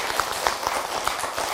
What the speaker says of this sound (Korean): 아, 이 선생님 위해서 박수 한번 쳐야 되겠습니다.